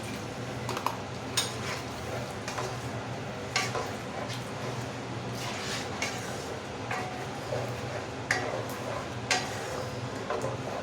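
Spice paste for chilli chicken being mixed in a bowl, made with powdered spices, black pepper and salt, heard as repeated scraping and clinking strokes of a spoon, close and fairly loud, with soft kitchen noise around it.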